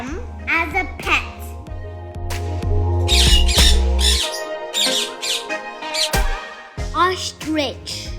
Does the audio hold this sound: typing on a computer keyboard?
no